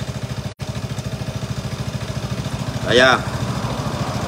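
A Vespa scooter engine idles steadily after starting, with an even, close putter running throughout, a slight swell near the three-second mark, and someone speaking briefly over it.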